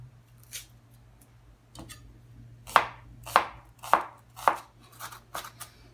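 A knife chops a yellow onion on a cutting board, a few soft taps followed by four sharp, evenly spaced cuts and lighter trailing ones, close and clear in a quiet kitchen.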